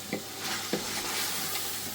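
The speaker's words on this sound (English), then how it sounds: "And bring that back to a good temperature once again. Sizzling through nicely." Biryani curry sizzles and crackles steadily in a hot pan, with a few soft stirring scrapes.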